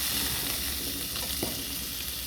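Papaya pieces tipped into a hot pan of frying vegetables for a Chinese-style vegetable stir-fry give a steady, close sizzle with a soft stirring scrape partway through, and no voices.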